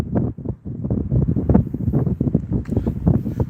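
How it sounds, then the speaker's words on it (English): Wind buffets a microphone outdoors during a nature walk, producing a low, gusty rumble in uneven bursts that rise and fall throughout. "And I apologize for the wind, y'all. It's a little windy out here."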